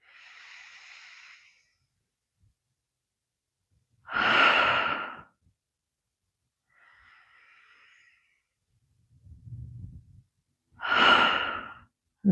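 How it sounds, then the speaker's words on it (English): Deep breaths drawn in through the nose and sighed out during a seated stretch practice, a slow pattern of soft inhales and fuller, breathy exhales, close and unhurried, with no speech. "Big breath in through the nose. Sigh it out."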